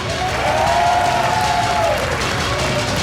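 Crowd cheering and applauding at a steamed-bun eating contest, a steady, loud wash of clapping and shouts lasting throughout, with a voice calling out over it.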